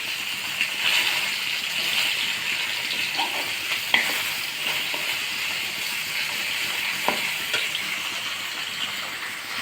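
Fish pieces coated in salt and turmeric frying in a pan, a steady hissing sizzle with occasional crackles and a few light knocks of stirring.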